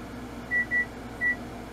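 An oven control panel gives three short, clear electronic beeps as it is set to preheat, two close together and a third after a pause, over a quiet kitchen hum.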